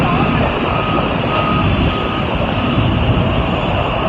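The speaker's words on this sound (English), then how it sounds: "There's a bus right here that comes to pick us up." Reversing beeps from an airport shuttle bus on the tarmac beside a Turkish Airlines plane, a steady warning tone sounding over loud, continuous engine rumble and broadband apron noise that fills the whole stretch.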